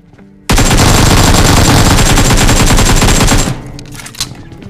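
Loud automatic gunfire from a Halloween-mode mobile shooter game played on a Poco X3 Pro breaks out suddenly as a dense, continuous burst of about three seconds, then cuts off into quieter game sounds.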